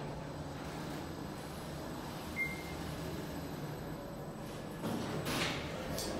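Quiet hum of a new glass Schindler 5500 traction elevator at Syracuse Airport riding between floors, with a brief soft beep partway through and a faint rise of door or motion noise near the end; no talking.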